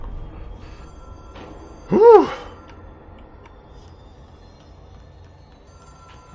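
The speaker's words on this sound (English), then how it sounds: "I think I'm still hearing the phone ring in the background." A single short ringing phone tone in the video game Control rises briefly over a quiet, low ambient hum, followed by a soft exhaled sigh.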